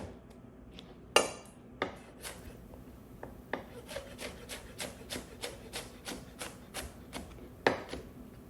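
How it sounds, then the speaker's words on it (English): Tomatoes being chopped with a knife on a board, a run of crisp, evenly spaced thuds and taps, close and fairly quiet, quickening into a steady rhythm. "You don't need to see me chop all these tomatoes."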